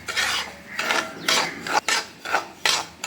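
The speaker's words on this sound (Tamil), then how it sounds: "அதை நம்ம வறுத்து எடுத்துக்கலாம்." About 300 grams of rava (semolina) roasts in hot oil in a pan for upma, stirred in a rhythmic series of about seven close, gritty scraping strokes.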